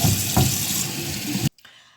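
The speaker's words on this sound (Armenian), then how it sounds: "մի հատ էս հոսող ջրի տակ լվանամ" Salmon rinsed under a running kitchen tap, a steady close splash of water for about a second and a half before it cuts off abruptly, leaving faint residual drips and handling noise.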